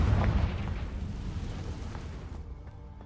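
A single heavy Confringo fire-spell explosion from Hogwarts Legacy erupts with a deep boom at the start, then rolls off into a fading rumble that cuts away near the end.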